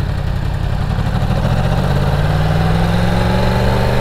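Steady loud engine of a 2018 Yamaha R1 motorcycle running on a street ride, a continuous close drone with a slowly rising pitch and no talking.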